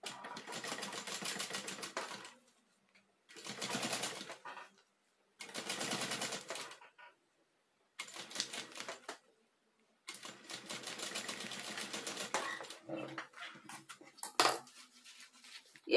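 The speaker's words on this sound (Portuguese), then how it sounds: "E aí eu vou fazer uma costura de um pé de máquina com o ponto número 3." Domestic sewing machine runs a presser-foot-width seam on stitch number 3 in bursts of rapid mechanical whirring, five or so runs separated by short silent pauses, ending with a few clicks and knocks of handling.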